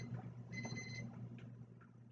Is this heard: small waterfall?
no